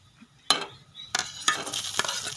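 Cumin, fennel and nigella seeds frying with spices in a pan, with sharp sizzling bursts and stirring scrapes and clinks recurring at close range, no talking.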